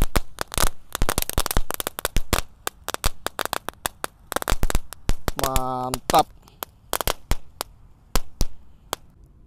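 Magic Ball 300-shot roman candles and firecrackers explode in rapid, irregular strings of sharp cracks and pops, clustering in dense bursts, with a short spoken word near the middle.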